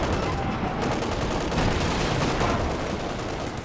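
Light machine gun fire in the World War II strategy game Company of Heroes 2 rattles on as a dense, continuous volley, loud and close throughout with no pauses or voices.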